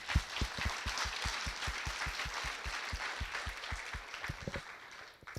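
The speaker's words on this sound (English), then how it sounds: "So I'd like to ask you to give them a round of applause right now." Audience applause after a call to honour hosts at a US ambassador's address in Montenegro: dense, steady clapping from a large crowd that holds evenly, with a few sharper near claps, then fades out at the end.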